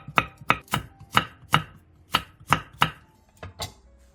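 Steady knife chops on a cutting board slicing onion, green onion and chili peppers, about ten sharp strikes at an even, brisk rhythm, close and clear with no talking.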